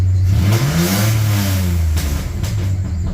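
A 1995 Dodge Dakota's 3.9 engine with new headers revving hard, its loud, throaty exhaust note rising and then falling back across a single burst of throttle.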